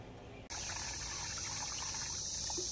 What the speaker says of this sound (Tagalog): So, diligan natin ng tubig bigas.